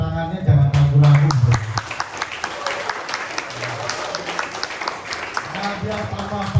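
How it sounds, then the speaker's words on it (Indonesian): An audience at a business presentation in Karawang breaks into lively applause for a guest, many hands clapping in a dense patter, with a speaker's voice heard at the start and end. "tepuk tangannya jangan ragu-ragu"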